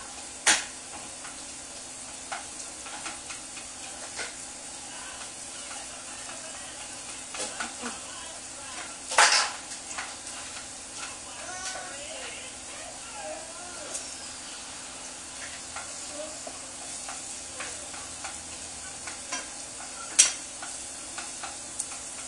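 Chopped garlic sautés in a pan for Brazilian stroganoff, giving a steady low sizzle with a few sharp spatula clicks and scrapes scattered throughout, one louder knock near the middle.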